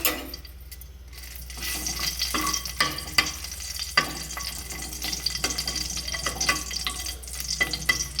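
Dry red chillies frying in a little hot oil give off a continuous close sizzle, with occasional spatula scrapes and a brief watery splash partway through, and no voices.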